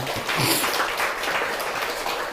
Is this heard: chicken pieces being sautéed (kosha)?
no